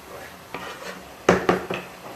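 Tripe simmering in tomato sauce is stirred in a cooking pot, giving a few soft scraping and knocking strokes of the spoon against the pot, with the last three louder and closer.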